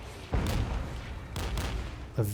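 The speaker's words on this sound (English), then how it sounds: "Enemy mortar fire is coming in." Incoming enemy mortar fire in the war strategy game Regiments: two heavy booming impacts about a second apart, each with a rumbling tail, followed by a sharper crack near the end, over a steady low battlefield rumble.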